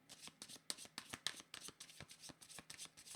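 Tarot cards are shuffled by hand in quick riffling bursts, a rapid run of soft papery flicks, close and quiet, with no speech over them.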